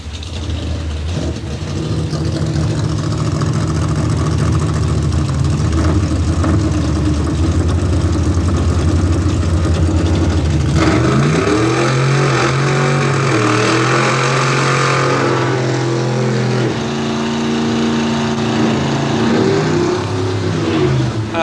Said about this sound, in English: ready to start their burnout.